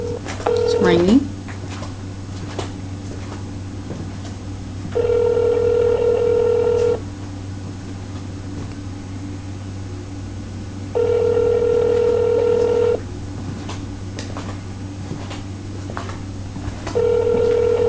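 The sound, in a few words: telephone ringing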